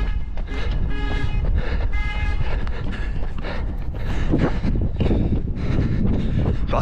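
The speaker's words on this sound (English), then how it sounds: "The wind is really getting to my face" Strong wind buffets the microphone outdoors on a cold day, a loud continuous rumbling roar with gusty surges, while a person talks faintly beneath it.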